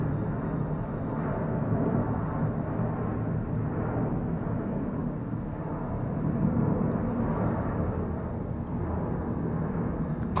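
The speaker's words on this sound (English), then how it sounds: "Quad jet." A four-engine jet airliner passes overhead, a steady broad low roar that holds at an even level for the whole stretch.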